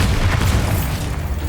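Bombarda blasting spell in Hogwarts Legacy, a loud, dense explosive boom with a heavy low rumble that decays slowly over a second and a half.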